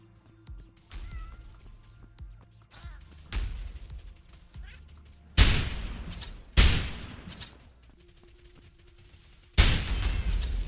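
Gunfire from the video game Cat Warfare erupts in three loud, abrupt bursts over a low hum of game sounds, each a sharp crack with a rattling tail, spaced a few seconds apart.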